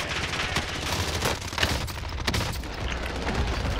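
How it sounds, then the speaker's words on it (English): Airstrike explosions in the video game Call of Duty Warzone, a dense run of booms and crackling blasts going off in quick succession at moderate loudness, with no talk. "Airstrike."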